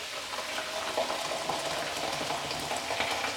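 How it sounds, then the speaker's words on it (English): Steady, dense sizzling of mushrooms frying in a pan, a constant crackly hiss with faint pops throughout, fairly close and with no talking. "whilst that's kind of frying away"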